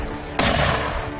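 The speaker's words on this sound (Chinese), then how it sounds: "一班60迫击炮射击首发命中" A single 60 mm mortar fires at a mountain military competition, one sharp loud blast followed by a short rumbling tail, with no voices.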